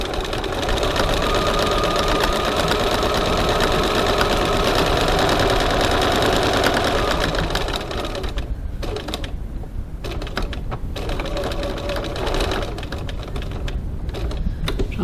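A sewing machine runs steadily, stitching lines across a crossbody bag, then briefly backstitches; the close, continuous mechanical whir breaks into short stop-start bursts near the end.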